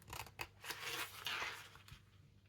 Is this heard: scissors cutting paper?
yes